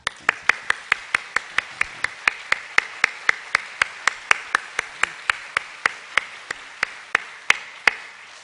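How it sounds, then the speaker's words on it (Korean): A church congregation claps in welcome, sharp evenly spaced claps repeating steadily throughout, near and crisp against a quiet room. "사모님 먼저 박수로 환영하겠습니다."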